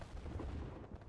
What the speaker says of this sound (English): I call the airstrike in.